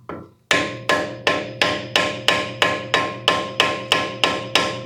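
A hammer taps a collar on the fanbelt tensioner of an International Harvester 444 tractor, thirteen sharp ringing metallic strikes at a steady brisk rhythm, close and loud with no talking.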